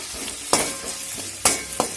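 Curry leaves dropped into hot oil in a pan, crackling with a steady background sizzle and a few sharp stirring scrapes and pops, close up with no talking.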